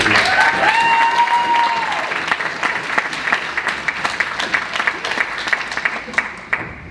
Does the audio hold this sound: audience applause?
yes